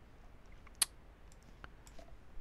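A few sharp computer mouse clicks, one crisp and prominent near the start and fainter ticks after it, in a quiet room with no talking.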